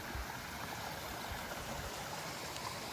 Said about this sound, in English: Nice creek crossing here.